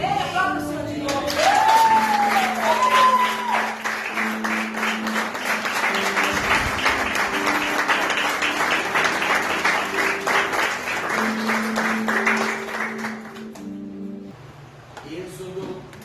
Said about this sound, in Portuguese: Aplauda o Senhor de novo.